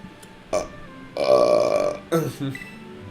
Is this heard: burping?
yes